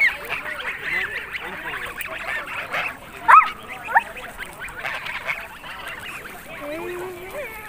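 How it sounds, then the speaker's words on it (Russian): Ducks calling at a feeding spot in Mersin, Turkey, honking and quacking overlapping with a few louder sharp calls, voices chatting throughout. "Тут кормят специально уточек."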